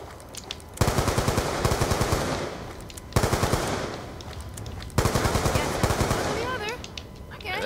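Rapid automatic gunfire in Black Ops 2 zombie mode, loud bursts of machine-gun fire in three long volleys with brief pauses, close and dense, with faint voices beneath.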